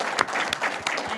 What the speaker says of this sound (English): You're supposed to clap right now